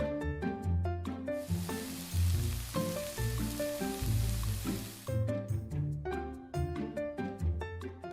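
Steady crackling sizzle of chicken frying in oil in a pressure fryer, close and continuous, with a rhythmic musical track playing over it.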